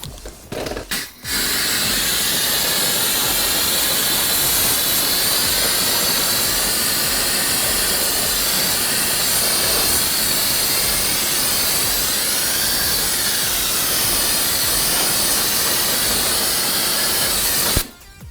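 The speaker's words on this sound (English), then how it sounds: "So we are now ready to rinse the wheel." A pressurised water jet rinses a car wheel during detailing at a car care show, a loud steady hissing spray running continuously for most of the stretch before cutting off near the end.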